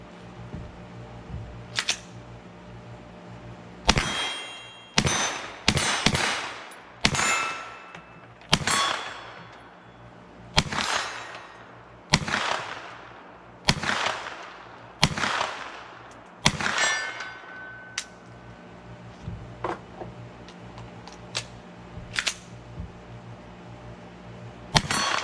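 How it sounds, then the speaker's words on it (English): Sharp gunshots from a Kel Tec Sub2000 Gen 2 9mm carbine fired at steel targets 50 to 60 yards away, a dozen or more reports in an irregular string, each trailed by a short ringing decay, loud and close with no talk. "I love shooting 9mm carbines"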